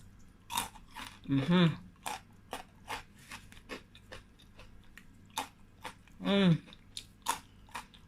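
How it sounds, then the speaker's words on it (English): Loud, close crunching bites of crisp Nigerian chin chin made without egg or milk, sharp cracks repeating in an irregular rhythm with two longer chewing bursts, no talking. "Can you guys hear the crunchiness?"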